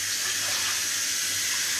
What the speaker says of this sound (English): Do a little premature rinsing of the pan with cold water to get it back down to temperature.